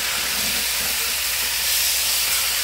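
Food browning in a hot pan, a loud, dense, continuous hissing sizzle heard close up with no voices.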